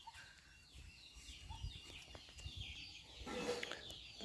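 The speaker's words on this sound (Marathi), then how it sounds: "कोंबड्या नुसते आवाज करतात सोडल्या नाहीत अजून सोडायचे आहेत" Hens, still shut in and not yet let out, cluck softly now and then in a quiet outdoor setting on a Devgad mango farm, with a brief flutter of wings and a louder burst near the end.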